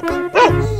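Dog gives a single short, sharp bark, close and fairly loud, in an animal-sounds sequence.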